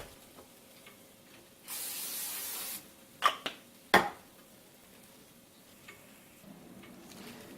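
Cooking spray hisses onto a pan for pizza dough in one steady burst of about a second, followed by a few sharp clicks and taps in a quiet kitchen.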